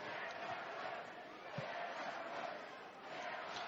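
Handball fans cheer and chant across a world championship arena during Belarus versus Hungary, a steady dense crowd roar filling the hall without letup, with brief louder swells.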